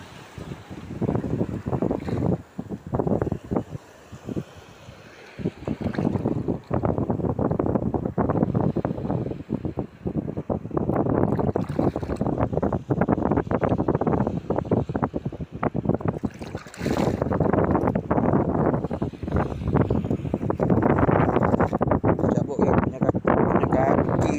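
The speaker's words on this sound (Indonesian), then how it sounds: "Okey, angin kuat. Biar angin kuat." Strong wind buffets a small fishing boat at sea during a net-fishing trip, with loud gusty microphone rumble and roar rising and falling over roughly twenty seconds. A voice talks under the wind.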